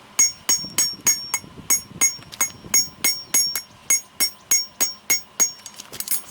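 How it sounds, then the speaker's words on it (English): A blacksmith's straight beam hammer rings on hot metal in a steady rhythm, about three bright, clanging strikes per second, close by and loud. "I'm using a straight beam hammer. This is only going to move metal axially."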